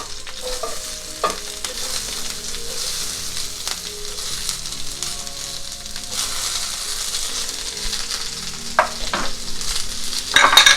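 Onion and curry leaves frying in hot oil for a coconut potato stew, a quiet continuous sizzle with occasional spatula scrapes and clinks that grow busier near the end, no one speaking.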